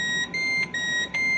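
An electronic alarm on a narcotics and explosives detector used by cruise ship security beeps in a rapid repeating pattern, three short bursts with brief gaps, shrill and steady in tone.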